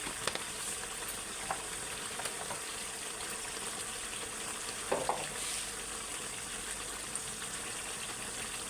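Chicken kofta curry spices with cumin powder sautéing in a pan, a quiet steady sizzle with occasional faint stirring clinks and taps, no voices.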